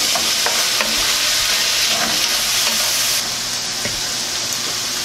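Basil cooks down in a hot pan for Tuscan chicken, a loud steady sizzle with repeated soft scraping strokes from stirring, close and without talk.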